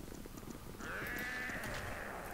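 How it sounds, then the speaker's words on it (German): Kobolds grunting in the background of the Baldur's Gate video game, a single drawn-out, bleating growl rising under a faint ambient bed, with no talking. "Oh, da grunzt jemand im Hintergrund. Oh, Kobolde."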